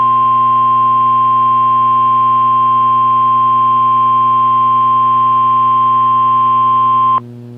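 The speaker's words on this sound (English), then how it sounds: "This is a test of the National Weather Service NOAA Weather Radio Warning Alarm System." NOAA Weather Radio warning alarm tone during a weekly test, a loud, steady, unbroken single-pitch tone holding for about seven seconds before cutting off abruptly.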